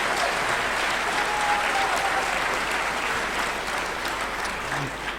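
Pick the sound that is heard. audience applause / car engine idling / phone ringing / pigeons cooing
audience applause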